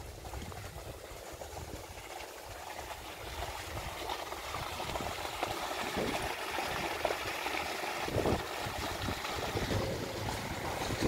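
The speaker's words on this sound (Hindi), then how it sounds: "पाइप इसमें पानी जा रहा है।" Water rushing steadily through a farm irrigation pipeline, a continuous broadband gush with low turbulent rumble, fairly close and unbroken, with no speech over it.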